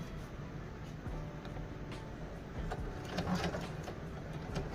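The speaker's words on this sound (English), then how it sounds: "And this side is not sewing as easy as the other side, but it's still getting into the ditch." A sewing machine stitches a white invisible zipper with a steady, quiet mechanical whir and faint rapid ticking that holds unbroken across the whole stretch, close by and alone.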